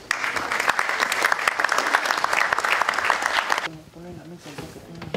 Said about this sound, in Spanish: Recibimos al señor John Preshing con un fuerte aplauso.